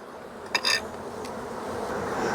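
Honey bees around exposed comb during a hive removal, with a faint steady buzzing under a brief clatter of handling noise near the start.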